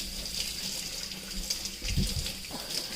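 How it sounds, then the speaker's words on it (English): Tap water running steadily into a sink for hand washing, a continuous close hiss with faint splashing and no talk. "Yes, we do wash our hands."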